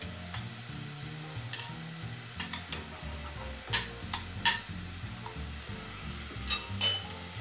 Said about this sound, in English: So we can go ahead and get the onion stirring here